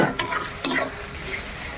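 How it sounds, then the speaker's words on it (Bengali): Ghugni, a spiced pea dish, is stirred and fried in a pan, with a couple of quick scraping strokes over a steady close sizzle and no talking. "ঘুগনিটা আগে রান্না করে নিচ্ছি।"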